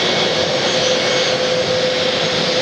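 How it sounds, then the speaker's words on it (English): Jet airliner roaring on takeoff at Atlanta Hartsfield-Jackson airport, a loud, steady broadband engine rumble with a sustained whine, continuous throughout and close by. "delaying the takeoff of this aircraft that wants to leave"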